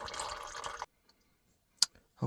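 Engine oil drips from a 2001 Ford F250 Super Duty 5.4 Triton, a stream of liquid that stops, then a few single close drips separated by silence.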